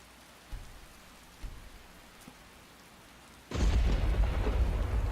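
Skyrim rain begins abruptly after a few quiet seconds with faint thumps, turning into a loud, dense, steady downpour that continues to the end.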